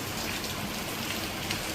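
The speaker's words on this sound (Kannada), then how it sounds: "ಆಚೆ ಮಳೆ ಬೀಳ್ತದೆ" Steady rain pours down outside a village home in the evening, a dense, even hiss of drops on surfaces with no voices, holding constant throughout.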